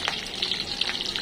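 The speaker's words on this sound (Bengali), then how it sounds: "শুটকিটা প্রথমে একটু তেলে ভাজা করে নিব লবণ দিয়ে" Chepa shutki, dried fish, frying in oil with salt, a steady close sizzle with soft crackling and small stirring bursts throughout.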